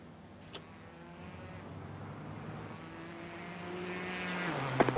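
Race car engine in the iRacing sim at the Le Mans 24 Hour, a steady continuous drone that slowly builds in pitch and loudness, with a brief click near the start and small bumps at the end.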